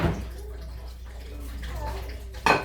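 Water runs steadily downward in a continuous wash over a low hum, then swells into a brief louder splash near the end.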